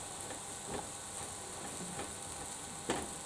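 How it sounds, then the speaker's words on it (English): Fried rice sizzles steadily in a hot frying pan while a utensil scrapes and stirs in occasional soft strokes, close and without talking. "There's a lot in my pan at the moment, so I have to be careful in how I stir this"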